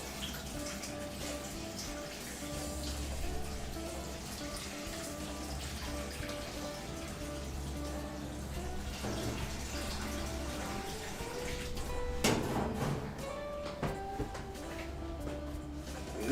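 Water runs steadily from a tap into a pot to rinse eggs, making a continuous close splashing and trickling sound, with a brief louder gush near the end.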